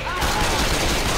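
Sustained automatic gunfire loaded with incendiary rounds in Left 4 Dead rattles continuously and loudly for the whole moment, a dense unbroken stream of shots with voices mixed underneath.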